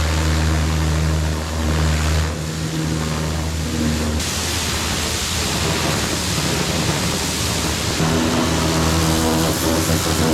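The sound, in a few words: Ryobi pressure washer engine running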